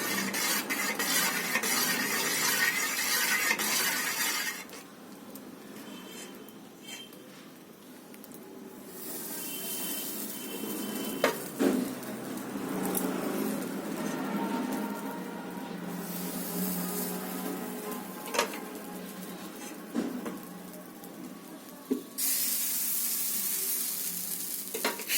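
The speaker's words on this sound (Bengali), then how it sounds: "আমার মা দেখো পিঠে ভাজতে শুরু করে দিয়েছে। তেল দিয়ে দিচ্ছে প্রথমে" Pitha rice cakes fry in hot oil inside moulds, giving a close, continuous sizzle that swells into louder hissing bursts at the start and end, with no talking.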